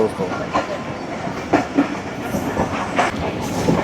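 Pak Business Express train between Rohri and Karachi rolling on rails, a steady loud rumble heard from onboard with rhythmic wheel clicks over the joints, and a voice faintly underneath.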